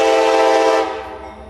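CSX freight train B315 sounds a long, loud sustained horn chord near Welcome Junction, with steady harmonic tones that drop off and fade after about a second.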